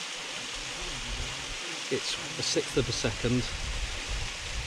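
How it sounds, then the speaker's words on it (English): A waterfall gives a continuous soft rushing hiss in the background while someone speaks close by over it. "We'll focus on the waterfall."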